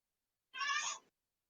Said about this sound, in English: Any cat noises are Benjamin.